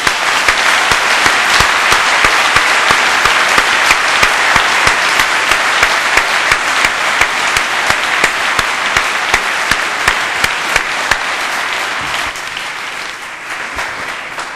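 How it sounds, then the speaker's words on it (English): A lecture audience gives loud, sustained applause for Supreme Court Justice Antonin Scalia, a dense wash of many clapping hands that continues strongly before easing slightly toward the end, with a brief spoken word over it. "he deserves an applause"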